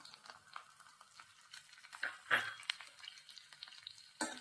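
Chopped onion and capsicum sauté in a pan, giving a soft, steady sizzle with small crackles and the occasional scrape of stirring, quiet and close with no talk.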